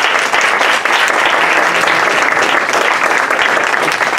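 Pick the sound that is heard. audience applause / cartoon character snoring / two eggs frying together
audience applause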